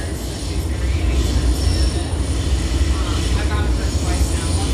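Metro train running on a worn, rough stretch of track in Washington, D.C., a steady loud rumble of wheels and car body with faint high screeching riding over it throughout.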